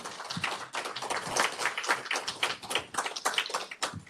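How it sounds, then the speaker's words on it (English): A small gathering at a town hall meeting gives a round of applause, quiet, sparse and uneven, with distinct individual claps. "How about a round of applause for Sheila?"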